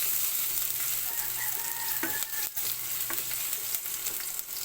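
Garlic sizzles in fresh cooking oil in a pan, a steady close frying hiss with a few clinks of a utensil, while a rooster crows faintly in the distance and no one speaks.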